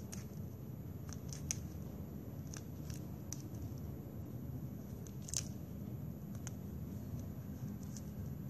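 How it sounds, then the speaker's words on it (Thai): Zigzag scissors snipping a plastic drinking straw into strips for a flower craft: crisp, close, irregular clicks repeating over a soft, steady background hum. "แล้วก็ซอยหลอดนะคะซอยตามรอยหยักของกรรไกรซิกแซกค่ะ"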